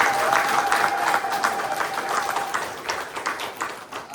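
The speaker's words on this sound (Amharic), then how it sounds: "ጭብጨባ ያስፈልጋቸዋል።" Warm applause from a gathered audience at a children's graduation ceremony, steady clapping that is dense at first and then gradually thins and fades, with a faint tone in the background.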